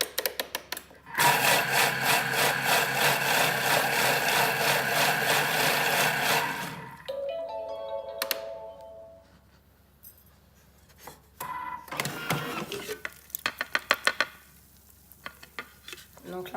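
A Thermomix whirs loudly and steadily at speed 5 for about five seconds while mixing yeast for a quick pizza dough, then cuts off, leaving a beep and light clinks.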